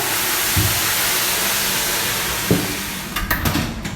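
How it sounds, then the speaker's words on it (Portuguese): Steam hisses loudly and steadily into a bread oven holding levain loaves, a broad continuous rush with a few dull knocks and clatters near the end. "Estou dando bastante vapor aqui."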